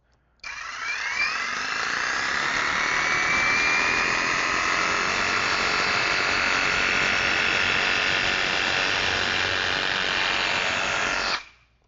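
A handheld power saw cuts through insulation batts with a jigsaw-like action, a steady close buzzing whine running unbroken for about eleven seconds after a sharp start and ending abruptly.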